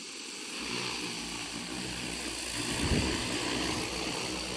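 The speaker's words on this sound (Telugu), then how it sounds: "డ్రోన్ని ఒకసారి అయితే టేక్ ఆఫ్ చేయాలండి సో డ్రోన్ని ఒకసారి టేక్ ఆఫ్ చేసి" An agricultural spraying drone lifts off, its rotors rising from near silence into a steady, loud propeller whine and buzz that holds for several seconds, with a brief louder gust partway through.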